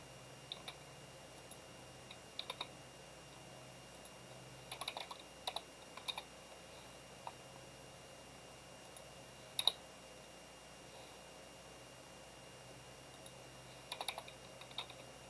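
Someone types quietly on a computer keyboard, with scattered clusters of light key clicks over a faint hum and long pauses between bursts, and no one speaking.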